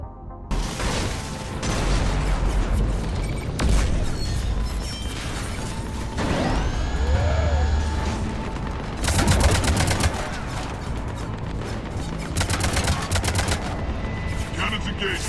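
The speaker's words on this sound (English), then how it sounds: "Cannons engaged." Cannons and gunfire boom and rattle through a Mass Effect 3 battle on Omega, with loud bursts of automatic fire, heavy blasts and mechanical clanks piling up in a dense, continuous barrage.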